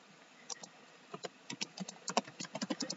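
Fast, uneven typing on a computer keyboard, a string of light close clicks and taps at a low level with no voices.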